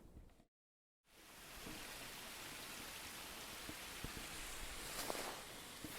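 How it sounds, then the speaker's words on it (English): Winter waterfall at the bottom of the Halcott Mountain trail, a steady broadband rush of falling water heard close and continuous after a brief silent gap at the start. "it's the sound of the waterfall that is here at the bottom of the trail to Halcott Mountain"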